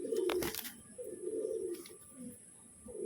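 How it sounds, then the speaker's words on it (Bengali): A pair of Madras pigeons coo softly and close by, giving several low, rolling coos with short pauses between them, and a brief flutter near the start. No one speaks. "খুব সুন্দর একজোড়া পায়রা"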